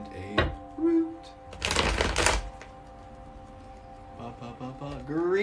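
Tarot cards shuffled in a burst of rapid riffling clicks, close and fairly loud, with brief card taps before and after and a soft voice murmuring in the background.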